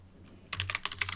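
Quick burst of keystrokes on a computer keyboard while setting up an XFCE Linux desktop, a short run of close, crisp clicks after a moment of quiet over a low hum.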